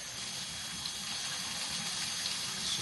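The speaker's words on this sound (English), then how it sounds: "It's just a little waterfall." A small waterfall splashes steadily beside a rice field trail in Ubud, a continuous close rush of falling water with no voices.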